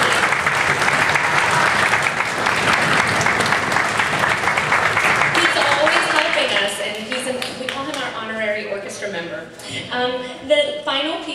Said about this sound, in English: I just want to give him a round of applause for all of his help